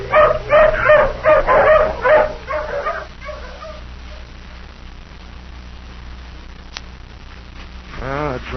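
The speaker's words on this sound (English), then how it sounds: "Come on, hounds, sniff." Tracking hounds in a 1940s radio crime drama give a burst of rapid barks and yips up close, then fade into soft whimpering, with a brief rising whine near the end.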